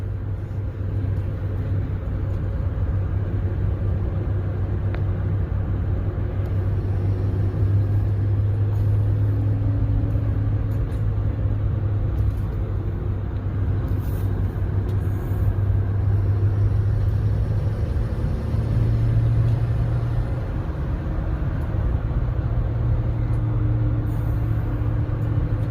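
A 2008 Ford F350 pickup with a 6.4L diesel and an installed tune drives along a road, its engine and road noise forming a steady low rumble with slight swells in pitch, no talk over it.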